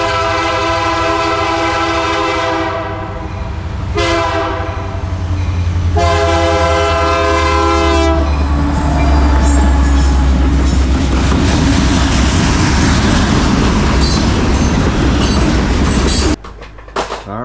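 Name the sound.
train passing and blowing its horn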